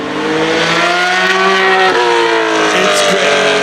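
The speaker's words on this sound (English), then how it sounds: "Listen to this flyby." A car with an expensive race engine screams past in a loud flyby, its pitch sweeping smoothly downward as it passes, with a voice faintly audible beneath.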